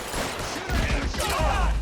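Rapid bursts of gunfire from a shootout in the video game L.A. Noire, loud and close, running as a dense fusillade through the short stretch with a voice briefly mixed in.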